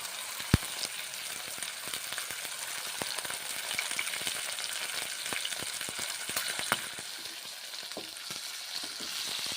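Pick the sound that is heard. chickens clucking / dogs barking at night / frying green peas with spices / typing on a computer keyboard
frying green peas with spices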